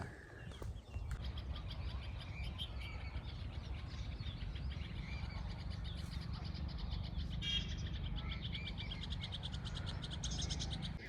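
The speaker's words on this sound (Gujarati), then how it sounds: "અવાજ કેટલો મસ્ત આવો પક્ષીનો" Birds chirp and twitter continuously on a farm on a cold morning over a steady low outdoor rumble, with several calls overlapping at moderate distance.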